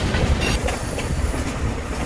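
A freight train hauled by a TGM-8 locomotive rumbles past on a Cuban line toward Guantanamo, a steady, loud, close wash of wheel clatter and low rail noise with no pause.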